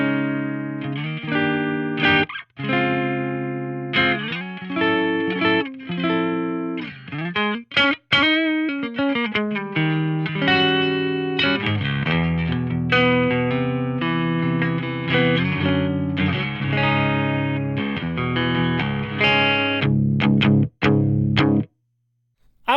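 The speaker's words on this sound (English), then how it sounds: "I think this neck pickup actually has a very nice, chimey, almost PAF style quality to it." A Sterling Fluff signature electric guitar played on its neck pickup runs through effects for about twenty seconds: sustained chords and melodic runs with a thick, slightly distorted, chorused tone that rings almost without a break, and no talking.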